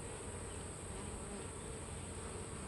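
Honey bees buzzing around an open hive during a frame inspection, a dense steady drone that is close and continuous with no pauses.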